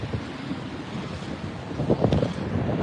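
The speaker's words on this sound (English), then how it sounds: "A bit windier here." Wind gusts buffet the microphone on a rainy walk around Edinburgh, a steady rough rumble with no speech.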